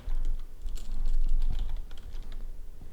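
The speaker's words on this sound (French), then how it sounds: "Si maintenant je tape une adresse," Someone types an email address on a computer keyboard, a quick, close run of crisp key clicks with uneven rhythm and no voices.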